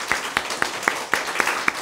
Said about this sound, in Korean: 우리의 생명 되신 예수님께 영광의 박수 올려드립니다